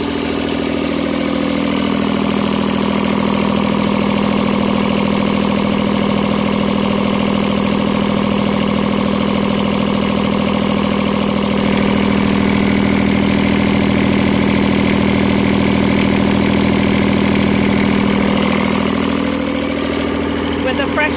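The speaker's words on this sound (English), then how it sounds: "Now I'll show you the engine running from inside." The inboard engine of a Catalina 34 sailboat idles, heard from inside the boat: a loud, steady, close rumble with an even throb, while a person speaks over it.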